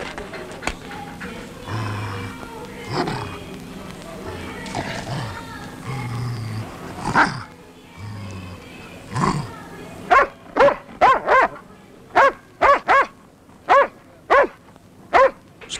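A dog barks repeatedly, sharp yips coming in quick bursts that grow louder and faster toward the end, with some speech and whimpering earlier.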